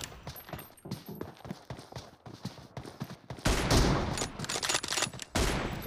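Gunfire in a sniper challenge shooting video game: a rapid run of sharp shots crackles through the first half, then a denser, louder burst of blasts takes over near the end, with no talking.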